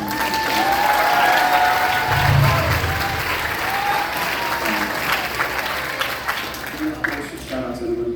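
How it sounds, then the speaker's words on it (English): A school concert audience of parents at a middle school recognition concert claps in a loud, sustained round of applause that slowly thins toward the end, with a few voices audible in the crowd. "One more big round of applause for him."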